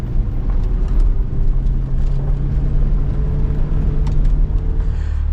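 A 2024 Chevrolet Corvette E-Ray lapping a track solo, its engine holding a steady, loud droning hum throughout with a continuous low tonal rumble and no voices.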